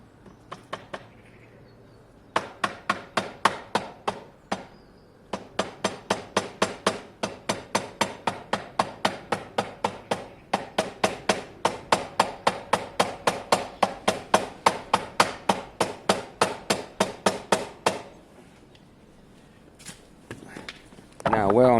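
Rubber mallet tapping a Honda CB200 fork yoke into place, dozens of sharp, evenly spaced blows in quick bursts, close and clear with short pauses between runs.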